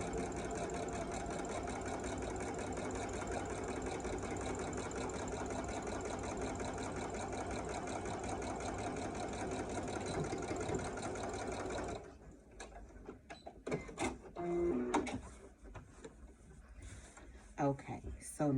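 A sewing machine runs steadily and fast for about twelve seconds as it stitches the curved seam of a fabric mask. Then it stops, leaving brief handling noises and a voice speaking.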